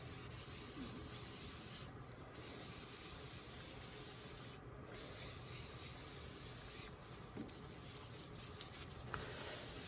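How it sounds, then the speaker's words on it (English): A rag rubbing asphaltum into a lithographic printing plate, a soft continuous scrubbing and wiping, faint and close with a few brief pauses. "I'm just buffing the asphaltum into the image areas."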